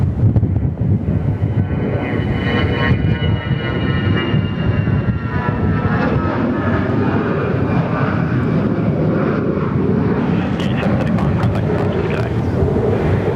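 A loud, steady jet engine roar from a nearby airliner at Perth Airport, continuous and broadband, with a rising whine as it passes.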